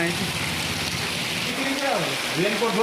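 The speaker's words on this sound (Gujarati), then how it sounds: "જોતા કેવો જોરદાર વરસાદ વરસે ને બારીશ આ રહી" Heavy rain rushes in a constant loud hiss while a person talks over it.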